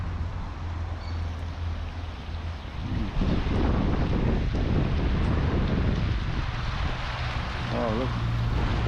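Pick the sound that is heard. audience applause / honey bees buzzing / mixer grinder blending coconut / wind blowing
wind blowing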